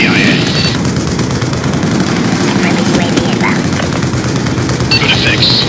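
Heavy gunfire from a VTOL warship in Black Ops 2 rolls on as a dense, loud, continuous barrage with booming bursts, radio-style voices talking over it.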